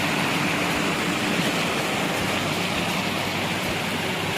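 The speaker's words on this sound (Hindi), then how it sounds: "रास्ते में आप देख सकते हैं पूरी तरह पानी आ रहा है" River water flowing across a flooded village path in a mountain village, a loud, continuous broadband rush that fills the whole clip with no voices.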